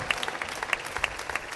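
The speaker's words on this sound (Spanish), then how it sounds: "Vamos a brindarle un aplauso a Jesús" A church congregation claps together after a sermon, a short burst of brisk, uneven handclaps with a few sharper claps standing out, fairly close and with no talk over it.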